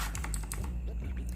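Key presses on a Vortex VX8 mechanical keyboard with RGB lighting, a quick run of clacky taps over a steady low background hum.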